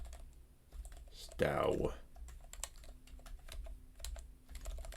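Commands are typed on a computer keyboard in a series of quick, light key clicks, with one louder burst of noise partway through, while a person talks over the typing.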